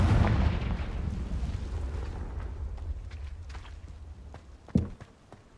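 Confringo blasting spell from a Harry Potter video game on PS5: a loud booming explosion rumbles and decays, followed by a sharp second blast and fading debris.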